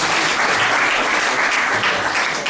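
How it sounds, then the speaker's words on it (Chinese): A crowd at a gathering applauds warmly, a dense and steady burst of clapping that stays loud and even from start to finish. "大家热烈掌声一下"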